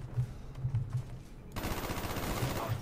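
AUG assault rifle gunfire in Black Ops 1 on PC, a rapid rattling burst that swells into dense continuous fire partway through, loud and close.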